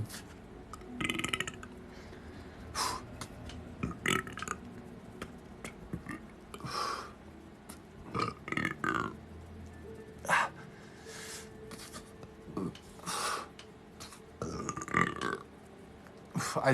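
Repeated loud burps come one after another, some long and rumbling, with short pauses between them and a few quieter breaths and mouth sounds.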